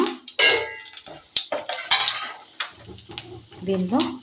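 Mustard seeds added to a small amount of hot oil for tempering, with crackling sizzle, clinking of a spoon against the pan and scraping stirs, close, while a person talks briefly.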